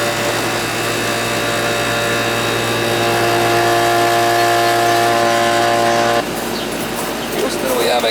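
A Goodman AC unit that had not been cooling runs with a loud, steady mechanical hum and whine, then shifts abruptly as its sound changes partway through, heard close up with talking.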